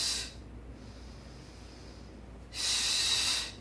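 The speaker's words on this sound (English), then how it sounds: "So we're going to exhale." Two breathy exhalations during an exercise routine with a resistance band, one short burst at the start and a longer, louder one near the end, separated by quiet room tone.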